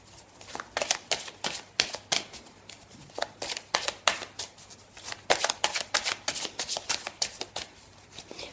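Mirror oracle cards are shuffled by hand in a rapid run of crisp, close riffling slaps, dozens of quick papery strikes in a steady rhythm with no talk.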